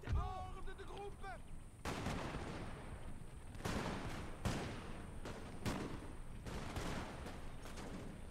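A run of booming cannon shots in Total War: Napoleon, including 6-pounder guns, several heavy blasts at irregular intervals over a steady rumbling battle ambience, with a brief tonal effect at the start.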